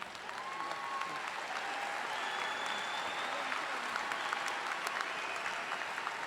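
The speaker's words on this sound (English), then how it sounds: "So another round of applause for College of Health Profession." Sustained applause from a large audience at a 2019 university undergraduate commencement ceremony, steady and continuous clapping filling the hall for graduates of a college of health professions, with no voices standing out.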